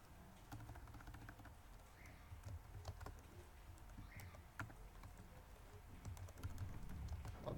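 Keys clatter steadily on a computer keyboard at moderate volume, brisk uneven clicks running throughout with no voices over them.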